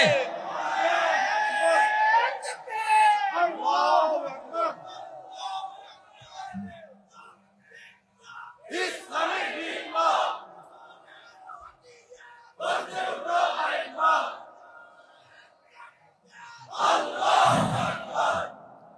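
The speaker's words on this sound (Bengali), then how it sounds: "আমাদের স্লোগান হলো নারায়ে তাকবীর। জোরে, আরো জোরে, আরো জোরে।" A large crowd chants the slogan Naraye Takbir in several loud, swelling bursts, each rising in answer to a single man's call, with quiet pauses between the roaring shouts.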